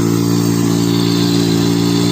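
A Matsumoto floating water pump engine running for irrigation on a shallot field, a loud, steady, close mechanical drone with an even hum and no change in pace.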